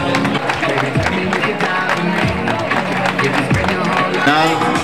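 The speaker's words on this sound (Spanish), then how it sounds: "Un aplauso fuerte." Audience applause at an award ceremony: a sustained, loud wash of clapping from a crowd, with a voice speaking over it.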